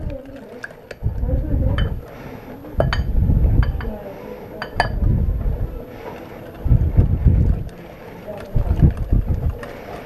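Spoon scraping and clinking against a bowl while cake batter with sugar is stirred, repeated bursts of mixing with sharp clinks, close and fairly loud.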